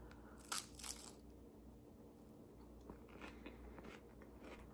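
A bite into a crunchy hazelnut fondant samsa pastry, a Tunisian sweet: two sharp close crunches at the start, followed by quieter chewing and crackling with no talk.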